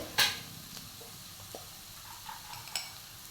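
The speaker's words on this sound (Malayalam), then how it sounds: "ഇപ്പോൾ ഈ സവാള ഇവിടെ നന്നായി വഴണ്ടി വന്നിട്ടുണ്ട്" Sliced onions sautéing with green chillies in a pan for chicken mappas, giving a low sizzle under a few scattered stirring scrapes and light clinks of a spoon against the pan, fairly quiet and close.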